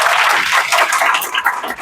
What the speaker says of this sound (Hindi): एक बार जोरदार ताली हो